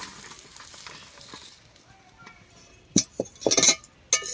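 Green jackfruit frying in oil, a low sizzle that gives way to sharp metallic clinks and stirring clatter of a utensil against the pan near the end.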